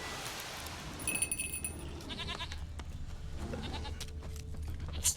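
A goat bleating in The Witcher 3 video game, wavering bleats close by over a low rumbling ambience, with a few clicks and a brief tonal chime early on.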